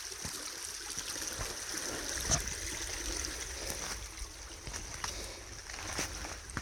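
Creek water flows and trickles steadily over bedrock, a constant close babbling wash with small splashes throughout, no voices.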